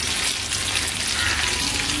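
Fish frying on a tawa griddle, a continuous, dense crackling sizzle, close and steady, with no talk.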